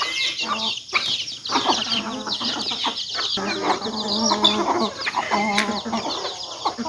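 Chickens clucking loudly and continuously up close while being fed, with overlapping calls and a few sharper squawks.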